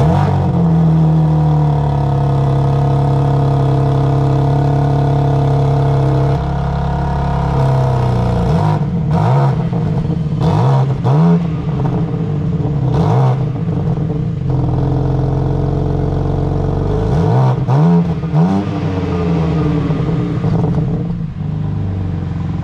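BMW M4 CSL heard from behind the car, engine blipped through several sharp throttle revs that rise and fall, loud and close, with a steady idle rumble between bursts.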